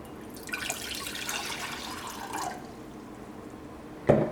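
Water being poured into a pan to make masala chai, a moderate splashing, trickling flow for about two seconds, then quiet before a short sharp clunk near the end.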